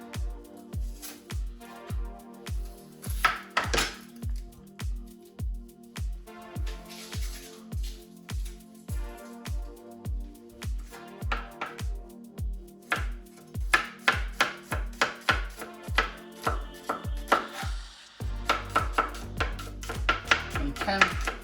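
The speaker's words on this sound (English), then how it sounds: "chop my garlic down" A knife chops garlic on a cutting board in a steady run of sharp, close taps, speeding into faster, busier strokes near the end.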